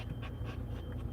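Dog panting steadily in warm conditions inside a car, quick rhythmic breaths close by, continuous and fairly quiet with no talk.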